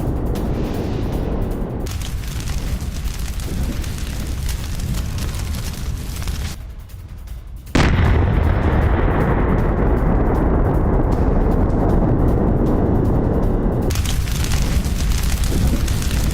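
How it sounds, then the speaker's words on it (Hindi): Heavy booming blasts and sustained roaring rumble as an attack hits Russian mortar positions in rural Kherson. Loud broadband bursts are broken by a brief quieter gap, then a sharp, powerful explosion lands and its roar carries on. "ग्रामीण इलाकों में रूसी मोर्टार कर रहा था फायरिंग"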